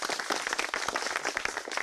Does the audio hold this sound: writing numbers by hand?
no